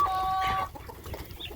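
Chickens cluck and squabble close by in a short burst, with a sharp squawk at the start fading into scattered clucks.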